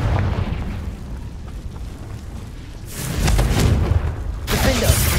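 A Confringo spell explodes in Hogwarts Legacy, a video game: two loud, booming bursts follow a quieter stretch of game ambience, each with a rumbling tail.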